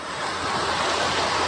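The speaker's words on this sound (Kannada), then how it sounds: "ಬಂತು ದೊಡ್ಡ ಅಲೆ ಬಂತು" Ocean waves break on the beach at Karwar in a loud, close, continuous rushing surge with wind noise and no voices.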